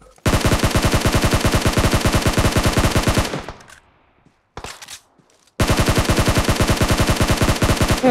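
Rapid automatic gunfire from a PUBG Mobile match, loud sustained bursts of machine-gun fire filling most of the stretch, broken by a short quieter gap with a few scattered shots before the firing resumes.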